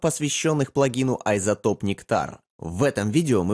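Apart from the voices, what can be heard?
No everyday noise stands out behind the speech.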